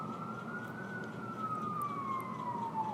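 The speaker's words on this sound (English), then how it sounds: "you even hear the sirens going on now" A single police siren wails steadily in the distance, its pitch slowly sliding downward over a low rumble of traffic.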